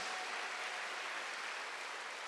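Congregation clapping during a Korean church Sunday service, a continuous, even roar of many hands, moderately distant and with no one speaking over it.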